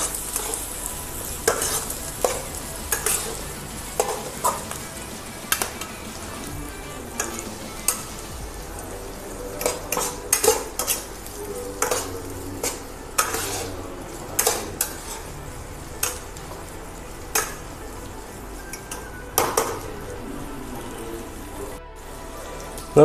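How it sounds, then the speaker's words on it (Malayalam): Eggs frying in a pan for an egg breakfast are stirred with a utensil, sharp scraping clinks recurring irregularly over a soft sizzle, close and moderately quiet, with no voices. "ഇളക്കി കൊടുക്കാം."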